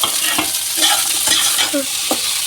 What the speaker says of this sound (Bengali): এবার এটার মধ্যে ফুলকপিগুলো একটু ভেজে নিচ্ছি